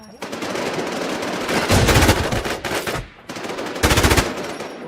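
Automatic gunfire from the online shooter game Infest, rapid bursts of machine-gun fire in loud, close volleys separated by brief pauses.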